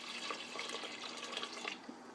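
Water from a tap pours steadily into a pot for pasta fagioli, a continuous splashing fill with no talk.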